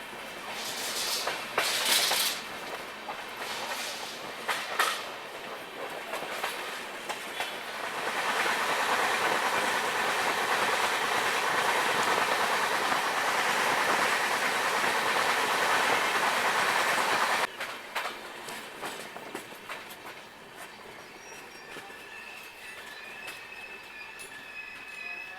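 Patalkot Express train pulling away and running on the rails, a loud steady roar of wheels with clickety-clack, squeal and hiss that swells, holds, then drops to a quieter rumble.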